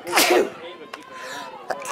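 A single loud sneeze at the start, followed by quieter room sounds and a couple of small sharp noises.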